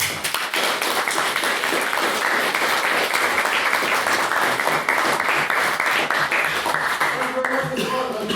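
A debate audience breaks into loud, dense applause after a speech, sustained clapping from many hands filling the room before tapering off, with a voice starting to speak near the end.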